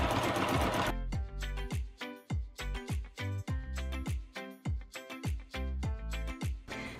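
A sewing machine does free motion quilting with quick bursts of rhythmic stitching. Short pauses break up the runs, and the machine is close and clear with no voices.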